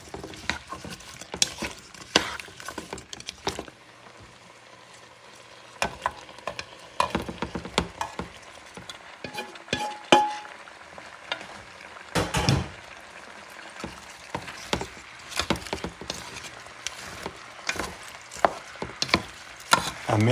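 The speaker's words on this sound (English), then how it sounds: "Mix things around." Vegetables with minced garlic are stirred in a pot for a rabbit-stuffed pumpkin stew, a close series of irregular scraping clacks of a utensil against the pan over a faint sizzle.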